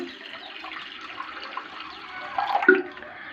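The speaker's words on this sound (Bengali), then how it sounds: "আর এদিকে ডালের মধ্যেও জল দিয়ে দিচ্ছি" Water poured from a vessel into lentils being readied for cooking, a fairly loud close splash and trickle of a few seconds that swells briefly toward the end.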